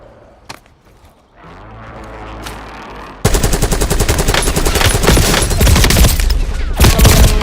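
Dense, loud automatic gunfire and rapid shots erupt in a Call of Duty match, starting after a few quieter seconds of game sounds and continuing as sustained close bursts.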